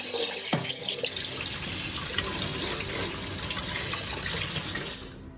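A kitchen tap runs as a knife is rinsed clean of sticky young jackfruit sap, a steady close splashing of water over the blade that holds nearly the whole time and tapers off at the end.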